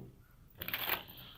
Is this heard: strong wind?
no